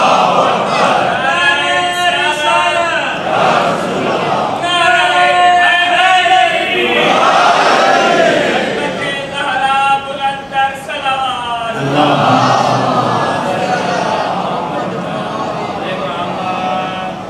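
Congregation at a Muharram majlis chanting religious slogans in loud call-and-response waves, a lead voice calling and the crowd answering in repeated swelling shouts.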